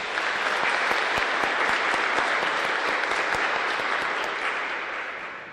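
Audience applause for student participants at a school Veterans Day program, a dense, steady burst of many hands clapping from a large crowd that holds loud and even before tapering slightly at the end.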